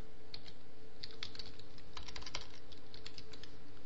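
Fast typing on a computer keyboard, a quiet close run of irregular key clicks and taps without talk.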